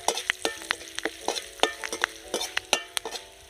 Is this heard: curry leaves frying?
yes